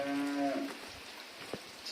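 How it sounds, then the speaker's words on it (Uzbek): Dairy cows at a household farm moo once in a long, drawn-out low call, followed by quieter farmyard shuffling and faint knocks. "Sigirlarimiz."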